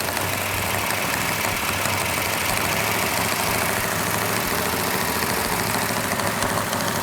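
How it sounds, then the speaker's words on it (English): A new Plymouth Cuda engine with a big cam runs steadily up close on first startup, held at raised RPM for cam break-in, a constant mechanical drone with a faint ticking clatter from noisy valve train, no voices. "Got a little bit noisy valve train, which is normal on a new engine."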